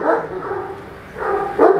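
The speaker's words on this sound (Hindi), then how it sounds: "तो ए वेखो जी एक होर कुत्ता आ गया।" Dogs at a bully-breed kennel yard bark in short bursts, a couple of deep woofs early, then louder barks toward the end, fairly close and with no talk.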